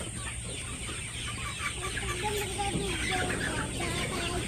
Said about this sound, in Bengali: আর মুরগি তো বড় হয়ে গেছে